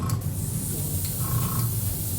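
An airbrush sprays paint onto a plastic scale model in a steady, close hiss, with a low hum from a compressor running beneath it.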